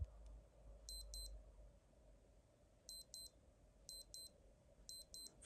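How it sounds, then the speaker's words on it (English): Alarm of a 1989 Casio fishing watch sounding in quiet: high, thin electronic beeps in paired bursts that repeat at a steady interval, fairly soft and close, with no talking. "For some reason the beep on this watch is quite low compared to other ones."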